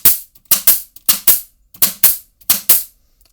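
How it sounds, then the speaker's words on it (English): A pneumatic nail gun in a studio workshop fires nails in quick succession, sharp close bangs coming in pairs roughly every half second, each followed by a brief hiss of air. "if I hold the trigger, and now when I push down, it's going to fire a nail"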